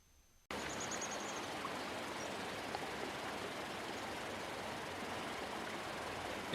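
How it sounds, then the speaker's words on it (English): A creek runs into a pond in a constant, fairly quiet broadband rush that starts abruptly after a short pause and continues unbroken to the end. "The sound you hear is the sound of the creek running into the pond."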